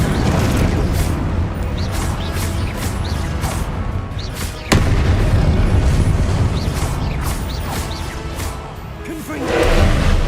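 Confringo blasting spells exploding in the wizarding video game Hogwarts Legacy, a dense run of booming, whooshing blasts with one sharp thud midway and a swell near the end, all under game music.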